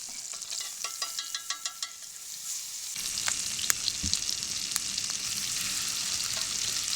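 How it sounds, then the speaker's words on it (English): Chicken pieces fry in butter in a hot cast iron pan at a riverside camp, a steady close sizzle with crackling pops and light stirring clatter, growing louder and denser partway through. "We started cooking the second batch of chicken on the pan with butter."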